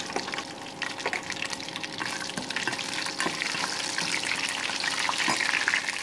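Chopped garlic sizzles steadily in hot oil in a pan for a dal tadka, a constant close frying hiss with occasional small pops and stirring clicks, no talking.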